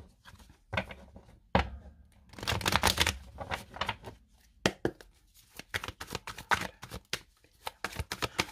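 Tarot cards being riffled and cut by hand in bursts of crisp, papery flutters and sharp slaps, close and clear with short pauses between shuffles.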